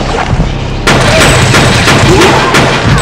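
Two pistol shots in the horror game Fear Effect: loud, sharp cracks cut through a dense, noisy game soundscape, one hard onset followed by further rapid reports under a steady, heavy backdrop.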